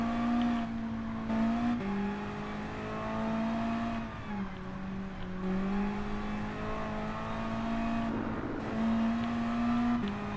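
A 1989 Mazda Eunos Roadster on soft racing tyres drives a circuit in Gran Turismo Sport, its engine note climbing and falling through repeated gear changes with steady acceleration whine, heard alone at moderate volume.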